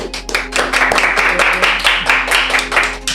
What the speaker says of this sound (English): Maybe the committee, a round of applause.